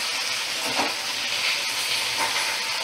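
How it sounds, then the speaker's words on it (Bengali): Twelve chopped okra pieces fry in a pan over a low flame, giving a steady, even sizzle and hiss with no talk. "এবার এটা একটু ভাজা ভাজা হবে"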